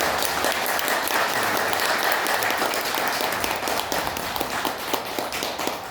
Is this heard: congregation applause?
yes